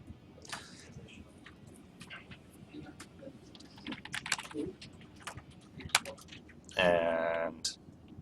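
Clicky computer keyboard typing, with scattered uneven keystrokes up close and a short burst of speech near the end over quiet room noise.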